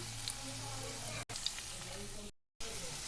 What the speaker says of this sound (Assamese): ইয়াতে মই এটা এটাকৈ তেলত এনেকৈ দি দিম।